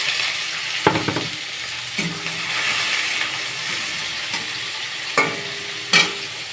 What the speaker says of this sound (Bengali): তেল দিয়ে দিয়েছি, একটু গোটা জিরে দিয়েছি, পেঁয়াজ কুচি দিয়ে দেবো